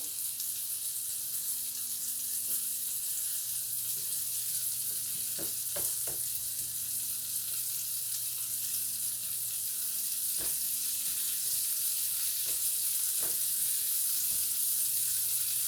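Liver sizzles steadily in a hot frying pan, with a few sharp scrapes and taps as the pieces are turned over, close and continuous with no talking.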